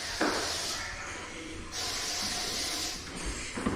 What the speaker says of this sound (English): Spray it real good up here.